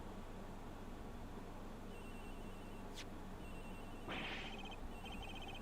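A phone rings from somewhere in a game's airplane cabin with a bright electronic ringtone in short repeated bursts. It sounds fairly faint over a steady background hiss, with a brief whoosh before it and no one talking.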